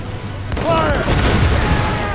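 Naval cannon or mortar fire in Assassin's Creed Rogue: a loud, deep boom rolls out and rumbles on through the short moment, close and heavy, with a faint shouted voice over it.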